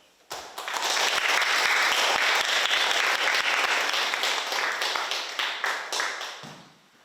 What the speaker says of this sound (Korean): 우리 힘찬 박수로 유상록 교수님을 맞아서